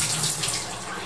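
Water runs steadily from a metal tap in a VIP hotel bathroom in Orlando, a close, continuous hiss and splash with no talking.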